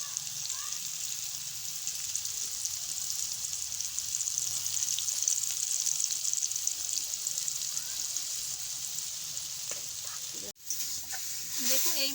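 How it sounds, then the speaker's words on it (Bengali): Boiled potatoes and jackfruit pieces frying in a pan give a continuous, moderately loud sizzle that holds steady throughout, with a brief dip near the end. "আলু আর হিঁচড়গুলোকে এইভাবে ভেজে নিচ্ছি"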